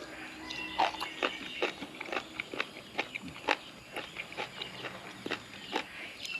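Close, crisp crunching as crunchy food is chewed, a steady series of sharp crackly bites repeating roughly every half second.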